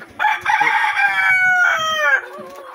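A loud, close rooster crows once in a long drawn-out call, with a few faint clucks from chickens nearby.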